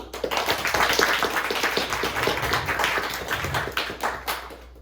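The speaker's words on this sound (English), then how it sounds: "Special round of applause for them" An audience at a music school's graduation concert applauds the accompanying teachers, a fairly close, lively patter of hand claps that swells and then gradually thins out.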